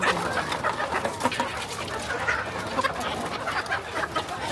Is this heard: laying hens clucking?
yes